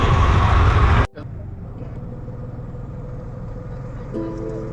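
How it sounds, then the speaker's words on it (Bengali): Steady engine rumble and road noise from inside a moving CNG auto-rickshaw leaving Sylhet railway station, a low continuous drone that holds level after a sharp break, with a faint tonal whine near the end. "তো আমরা কিন্তু অলরেডি সিএনজিতে উঠে গিয়েছি"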